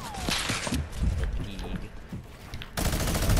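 Shotgun blasts and sustained minigun fire in a fast-paced team shooter, loud and close, with a rapid buzzing stream of shots toward the end. A voice talks over the earlier part.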